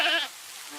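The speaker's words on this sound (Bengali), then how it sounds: "ছাগলের ঘর থেকে কান্নার শব্দ আসছে কেন?" From inside a goat shed, one brief, close goat bleat sounds for about a quarter second, then fades into quiet low background.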